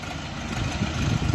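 A two-cylinder ORION RF 404 tractor engine idles with a steady low rumble, close and moderately loud, growing slightly rougher toward the end.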